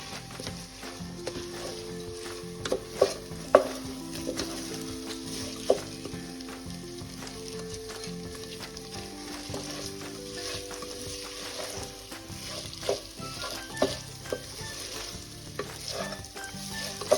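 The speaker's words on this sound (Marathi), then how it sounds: "पूर्ण तांदूळ अगदी खमंग वास येईपर्यंत भाजून घ्यायचा आहे।" Washed rice roasts in a pan with a low sizzle while a spoon scrapes and taps the pan in irregular strokes, close and fairly quiet, with faint tonal background sounds and no talking.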